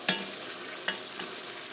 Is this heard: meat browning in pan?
yes